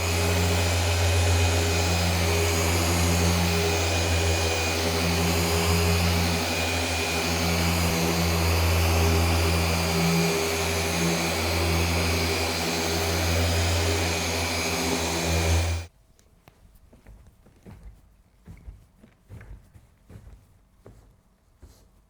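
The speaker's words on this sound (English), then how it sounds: "Our method was Rupes Mark V polishing machine with wool pad and the red compound from Kohimi for cutting." A Rupes Mark V polishing machine with a wool pad and red cutting compound working the paint of a 1960s Mercedes 230SL, a loud, steady whirring drone that runs constantly, then cuts off abruptly, leaving quiet scattered handling noises.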